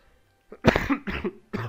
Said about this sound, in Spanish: Ay, qué tos más fea que tengo ahora.